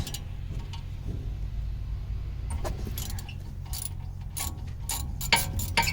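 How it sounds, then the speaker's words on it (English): Torx bit turning out the brake caliper retaining bolts on an Audi A4 B9 during a front pad change, heard as close ratchet and metallic clicks that grow denser toward the end over a low workshop hum. "Now you need your number 45 Torx bit to undo these retaining bolts."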